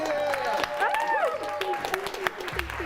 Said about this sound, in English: everybody in the studio can applaud for that.